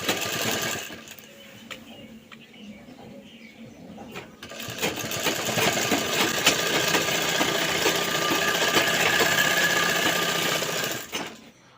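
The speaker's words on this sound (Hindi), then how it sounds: "अब मैं यहाँ पर 2 सिलाई दे रहा हूँ" A sewing machine runs steadily for several seconds, stitching a second line along the folded hem of an old petticoat, with a brief start and stop before the sustained run.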